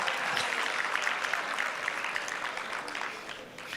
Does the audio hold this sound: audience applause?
yes